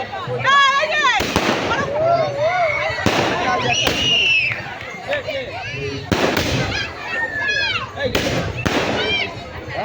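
Fireworks at an outdoor village festival ground in Gopalpur: whistling rockets rise and loud bursts crack at intervals, with voices and crowd noise throughout.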